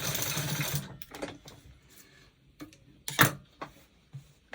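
A sewing machine back-stitching a fabric bodice: a short burst of rapid stitching, then a few separate clicks and brief whirs as the stitch reverses, close and fairly quiet.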